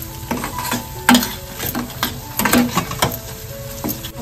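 Chilli tomato paste with turmeric is stir-fried in a pan: a steady close sizzle with repeated scraping and clinking strokes of the spoon against the metal, some louder knocks standing out.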